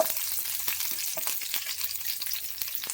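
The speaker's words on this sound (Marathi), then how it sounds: "थोडंसं तेल ओतलेलं आहे म्हणजे पटकन कांदा परतला जातो" Chopped onion sizzling in a little hot oil in a pan, a steady close crackling hiss with scattered pops and spatula strokes throughout, no voices.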